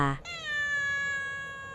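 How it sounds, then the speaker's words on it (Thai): A house cat gives one clear, drawn-out meow that falls slowly in pitch, close to the listener and moderately loud, lasting over a second with a short sound at the start. "อาณาจักรแมวของป้าพัชรดา"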